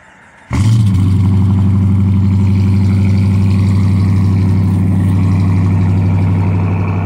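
A 2021 Dodge Charger R/T with dual exhaust starts up and settles into a loud, deep, steady rumble close by, holding strong for several seconds with no voices.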